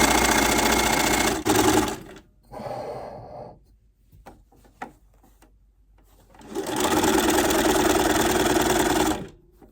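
A sewing machine stitches quilt pieces with a quarter-inch seam and a tiny back stitch, running in two loud, steady bursts separated by a quieter pause of fabric handling.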